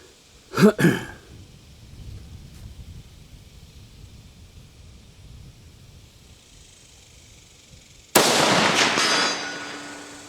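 A rifle is fired at a target outdoors, and one sharp report with a quick echo sounds near the start. A long quiet stretch of ambient noise follows, ending in a loud burst of broadband rushing noise.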